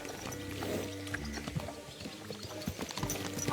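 Steady clip-clop of hooves at a trotting rhythm over a low ambient music bed, moderately close and even in level; a horse in the video game Kingdom Come: Deliverance II.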